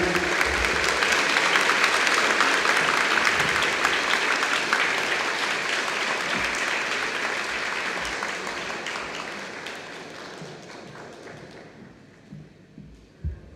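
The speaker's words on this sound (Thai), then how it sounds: "ขอเสียงปรบมือให้กับ คุณอานนท์นำพาด้วยครับ" Audience applause at a live Thai lecture marking the 47th anniversary of 6 October: dense, loud clapping that fills the opening seconds, then thins and fades toward the end, leaving a few scattered claps.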